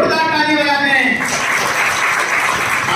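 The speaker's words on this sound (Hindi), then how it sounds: "जोरदार ताली बजाते हैं" An audience at a regional science exhibition in Aligarh breaks into loud, dense applause that swells after a second of musical tones and continues steadily to the end.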